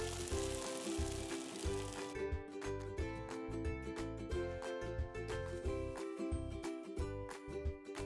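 Marinated sago goes into a hot pan for kichadi and sizzles steadily and softly throughout, with a tonal musical backing running underneath.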